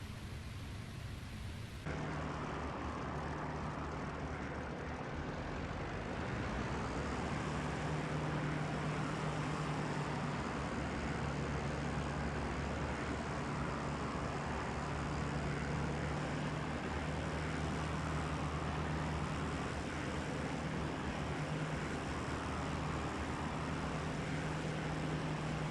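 Heinkel He-111 bomber engines roaring through a takeoff in IL-2 Great Battles, a loud, steady droning of twin propeller engines that swells sharply after the first two seconds and holds at full power with a constant throbbing hum.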